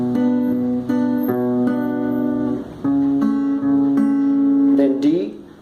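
Acoustic guitar chord played with a picking pattern, A bass note followed by higher strings, steady ringing arpeggiated notes close up with no talk.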